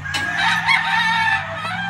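A blue game cock crows once at a gamefarm, a loud, close, drawn-out call lasting under two seconds with no talking.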